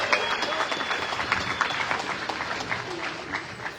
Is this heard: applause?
yes